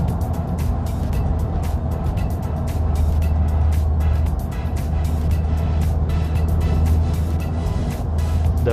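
A 300whp, 500nm Mazdaspeed 6 drives on a bumpy road in Setia Alam. A constant loud low engine and road drone plays throughout, with frequent brief knocks and thumps from the bumps.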